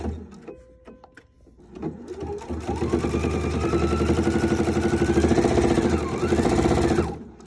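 Husqvarna Viking sewing machine on a heavy woven setting, stitching cotton quilt binding: a few taps, then a loud, steady mechanical whirring that holds for several seconds, rising and falling slightly, and stops.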